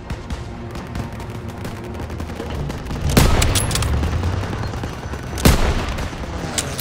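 Sustained World War II battle gunfire in Call of Duty WW2: a dense, loud fusillade of rifle and machine-gun shots with two sharp, heavy blasts standing out midway and near the end.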